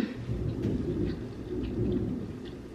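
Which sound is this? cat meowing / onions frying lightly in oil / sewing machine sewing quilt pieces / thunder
thunder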